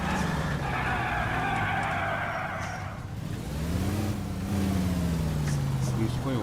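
A car driving at speed in L.A. Noire, steady engine drone with tyre skids, pitch rising and falling as it pulls out to overtake another vehicle, a voice talking over it.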